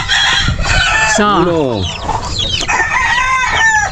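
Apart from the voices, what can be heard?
chickens clucking and rooster crowing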